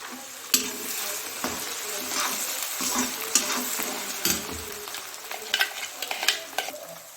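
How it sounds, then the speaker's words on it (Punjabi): Tempering for a cauliflower and carrot pickle sizzles steadily in hot oil, with sharp crackles and spoon scrapes against the pan recurring throughout and no talking. "ਹੁਣ ਆਪਾਂ ਸਾਰਿਆਂ ਨੂੰ ਲਾਣਾ ਜੀ ਤੜਕਾ"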